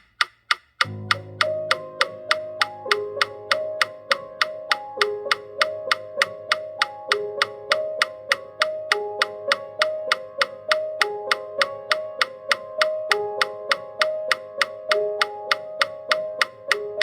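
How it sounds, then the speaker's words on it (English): A metronome clicks steady eighth notes at 200, a fast, even stream of crisp ticks running alone with no talk, the clicks close and clear for the whole stretch. "today is some serious metronome work"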